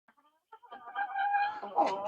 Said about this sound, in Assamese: মই মুৰ্গীখিনি বৰ্তমান এবেলা বান্ধো আৰু এবেলা এৰি দিওঁ